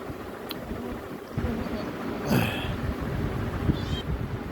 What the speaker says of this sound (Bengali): ওই যে ম্যাও ম্যাও করে